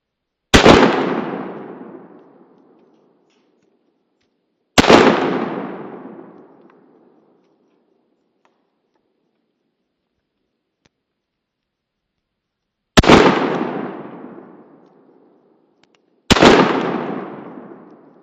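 Four loud, sharp shots from an AMT Backup .45 pistol fired outdoors at a hard drive, each ringing out into a long decaying echo, unevenly spaced with long silences between them.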